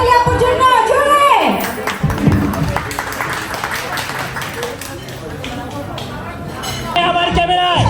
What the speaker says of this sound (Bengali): সবাই আরেকটা গরম তালি আপুর জন্য, জোরে।